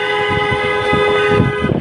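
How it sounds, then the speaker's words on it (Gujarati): A car horn blares from a vehicle speeding up behind on a road: one loud, close, sustained toot that holds steady for most of the moment before cutting off. "બહુ હોર્ન વગાડે છે જાડાભાઈ"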